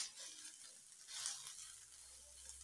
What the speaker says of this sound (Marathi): मी या 2 लाल ओल्या मिरच्या देखील यामध्येच छान परतून घेणार आहे